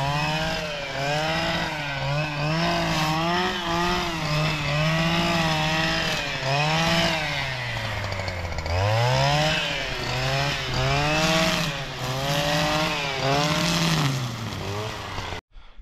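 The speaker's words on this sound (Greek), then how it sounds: "πόση φασαρία κάνει αυτό το χολοκοπτικό" A STIHL brush cutter runs loud and close for the whole stretch, its engine whine rising and falling steadily with throttle and load, no talk over it.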